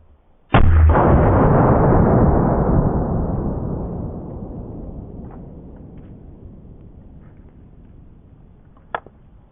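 A Glock 19 fires 9mm Hornady Critical Defense into a row of pumpkins: one loud, booming close shot with a long rolling echo that fades over several seconds, then a faint sharp tick near the end.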